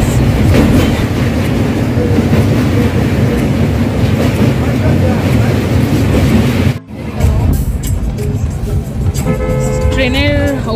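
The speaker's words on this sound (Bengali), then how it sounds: "কোলাঘাটের ব্রিজের ওপর দিয়ে ট্রেনটা যাচ্ছে" The Ranchi Express rumbles loud and steady across the Kolaghat bridge, with rhythmic clattering of wheels on rails, a brief dip midway, and a horn toot near the end.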